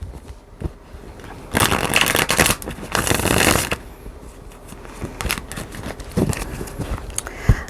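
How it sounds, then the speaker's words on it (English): A deck of astrology cards is riffled and shuffled close up in two or three quick flurries of dense crackling flutter, with softer handling between them and no talk. "Let me shuffle these cards."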